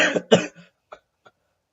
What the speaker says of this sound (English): Again, sorry for the coughs.